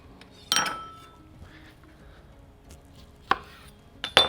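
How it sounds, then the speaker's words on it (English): A knife cutting open a fresh lemon on a board, with three sharp, close chops or knocks spaced apart amid near silence, no talking. "So I'm gonna just cut that open here"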